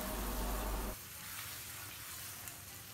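Mutton changezi with green chillies being mixed in a pan: a loud, dense sizzle and stirring for about a second, then settling into a quieter, steady frying hiss.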